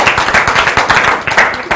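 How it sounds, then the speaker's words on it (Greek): Studio audience clapping on a Greek football talk show as the director of the academies is handed the microphone, a brief dense burst of hand claps. "Χειροκρότημα."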